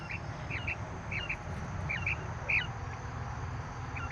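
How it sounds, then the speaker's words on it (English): A hen chattering near a dust bath, short repeated clucks and squawky calls in small bursts over a low steady background hum, fairly close. "You're so chattery for a hen."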